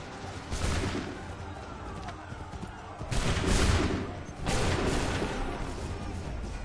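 Volleys of musket gunfire in Assassin's Creed III, loud crackling bursts of massed shots in two or three waves with rumbling booms between.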